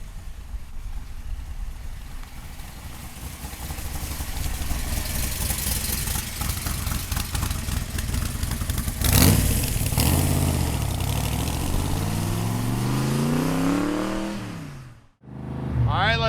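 A 1965 Shelby Cobra Backdraft engine rumbles steadily at idle, then swells into a rising rev near the end before dropping briefly and picking back up, loud and close.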